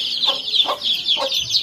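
A hen clucks in a few short, close, rhythmic calls over a faint background.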